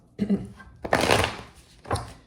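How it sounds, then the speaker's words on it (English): Tarot cards being shuffled by hand, close up, in three short riffling bursts of papery flicking. "Okay, so now I'm just going to shuffle a bit here."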